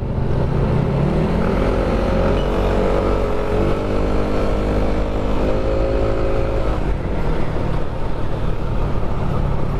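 Motorcycle engine on a ride around Baguio City, droning steadily and loudly with rising and falling pitch as the rider revs and shifts, alone throughout with no talk.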